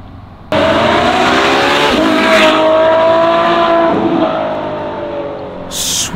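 A Ferrari F12 N-Largo roars hard from a standing launch, engine revving up through first gear and shifting into second with a rising, loud exhaust note that eases off toward the end.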